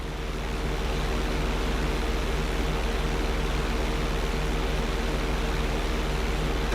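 Steady, continuous aircraft engine drone with a propeller-like hum, holding at a constant loud level throughout as a plane climbs toward a runway checkpoint during flight training in GTA V.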